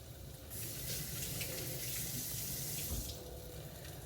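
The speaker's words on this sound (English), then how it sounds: "So that way the liquid just goes straight into here" Liquid pours steadily from a kitchen pan through a colander into a bowl below, a continuous close, moderately loud splashing gush that swells midway and then eases slightly, with no talk over it.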